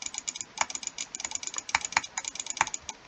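Rapid, uneven clicking of a computer keyboard and mouse during a Minecraft Hypixel Blitz Survival Games match, loud and close, with clustered bursts of keystrokes and no talking.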